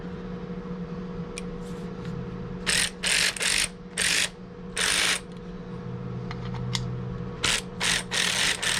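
A ratchet wrench loosening bolts clicks in repeated bursts, each a short run of rapid ratcheting, loud and close over a steady low mechanical hum.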